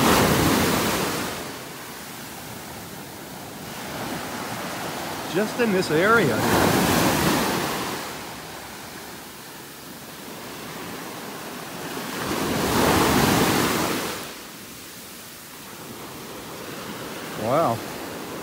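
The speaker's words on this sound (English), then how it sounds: "These are some pretty good waves here pounding in on the beach right now." Ocean surf rolls and pounds onto a North Naples, Florida beach in repeated swelling waves, loud and broad, with a short remark spoken over the roar.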